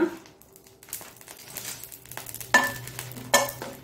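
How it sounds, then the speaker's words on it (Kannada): Eight Byadagi chillies roast in a little oil over medium heat for Mangalore chickpea sukka. A soft, crackly sizzle carries brief scraping and clattering stirs, with two sharper bursts near the end. "ಮೊದಲಿಗೆ ಈ 8 ಬಾಡಿಗೆ ಮೆಣಸನ್ನು ಹುರಿಯೋಣ"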